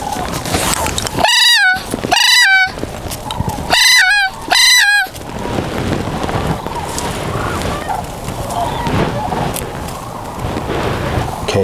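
Flock of sandhill cranes overhead during a hunt, four loud rolling bugling calls in quick bursts over the first five seconds, then fading to distant calls amid field noise and rustling.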